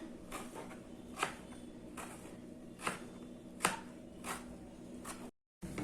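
A knife slices a snake gourd into thin pieces on a board, several sharp separate cuts at an uneven pace, close and fairly quiet, with no talking.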